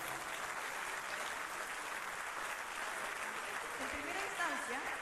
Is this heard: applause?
yes